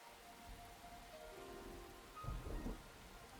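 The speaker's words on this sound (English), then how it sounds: "The intensity of the rain also picks up." Steady heavy rainfall hisses throughout a thunderstorm scene in the visual novel game Aokana, and a low rumbling thunderclap swells in the second half. The storm plays alone with no voices.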